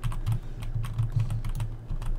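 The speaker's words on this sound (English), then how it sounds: "I'm right clicking it, left clicking it, right clicking it, left clicking it, right clicking it" A computer mouse clicked over and over, alternating right and left buttons during a World of Warcraft session, giving a close, steady run of crisp little taps.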